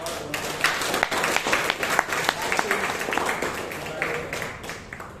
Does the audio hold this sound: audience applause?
yes